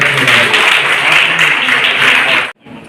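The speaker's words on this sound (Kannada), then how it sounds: "ಒಂದ್ಸಲ ನಿಜವಾಗ್ಲೂ ಚಪ್ಪಾಳೆ" An audience claps loudly in a dense, sustained burst of applause that stops abruptly near the end, leaving a faint room tail.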